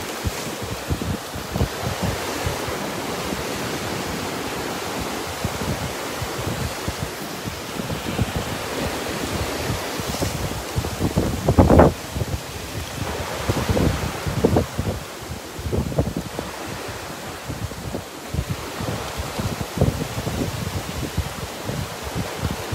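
Steady wash of surf rolling ashore on the Sea of Galilee under gusty wind buffeting the microphone, a continuous outdoor roar with a few louder surges.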